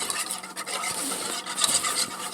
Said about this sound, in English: Continuously stirring, guys.